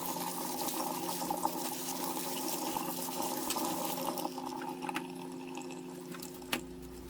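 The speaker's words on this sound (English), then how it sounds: "so we have to rinse it with water." Tap water runs steadily over blanched noodles being rinsed in a home kitchen, a continuous splashing flow with small clinks near the end.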